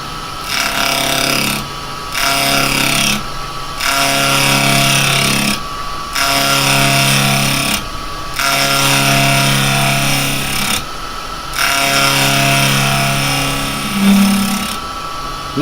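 A carbide 9mm box hollower cuts into yew spinning on a wood lathe, giving a loud, steady tonal whine and scraping in repeated cutting passes broken by short silent pauses, with no talking.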